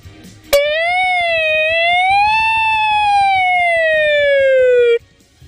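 A man imitates a wailing police and ambulance siren with his voice, one long rising and falling tone held for about four and a half seconds, loud and close, with nothing else around it.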